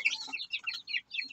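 A young Japanese Shamo chicken, about four months old, makes soft, high clucks and chirps in a backyard, in short repeated bursts that are fairly quiet and close.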